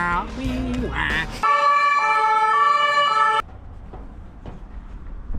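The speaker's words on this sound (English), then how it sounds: "I think they've just got weird sirens, haven't they?" A Spanish emergency vehicle siren sounds close by, a loud two-tone wail held for about two seconds between brief bursts of nearby talk and road noise.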